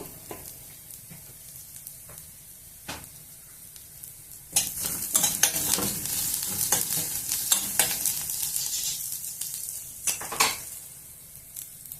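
Vegetables for veg egg fried rice sizzle in a hot pan while being stirred, a quiet fry at first that swells into loud, crackling sizzling with repeated scraping and clinks of the utensil against the pan.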